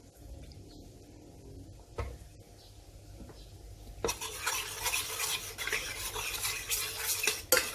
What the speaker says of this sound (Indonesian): Kita aduk dulu sampai rata.